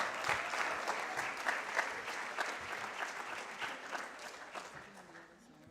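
Audience applause at a youth leadership symposium greets a woman taking the platform, steady dense clapping from a sizable crowd that gradually fades toward the end, with no talk over it.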